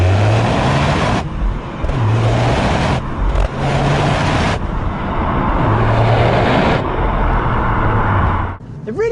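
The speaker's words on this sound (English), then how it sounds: "This 3-cylinder engine, while it can sound a little bit rattly at first, is just so punchy." A Toyota GR Yaris with its punchy three-cylinder engine revs loud and close, surging and dropping in repeated bursts over a rough, rattly drone.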